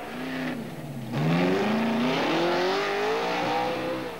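A car engine revs and accelerates, its pitch climbing steadily, loud and close, with no voices.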